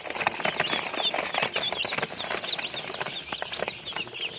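Chicks at a feeder in a hatchery peep and cheep continuously, many small high chirps overlapping with light scuffling and fluttering, fairly close and moderately loud.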